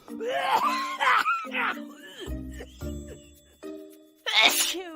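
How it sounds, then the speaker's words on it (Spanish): A person sneezes up close amid other vocal body sounds, with moaning and wailing effects and a short musical tone. "estornudar"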